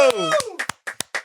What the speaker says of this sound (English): Everybody, round of applause, please.